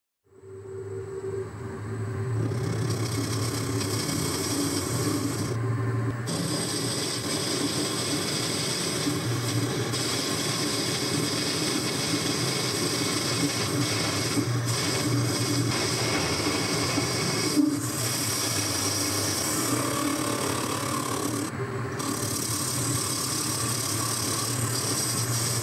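A metal lathe turns down the diameter of a draw bar to match a spindle's outside diameter, giving a steady, continuous machining hum and whir with a few brief gaps, running alone without talk.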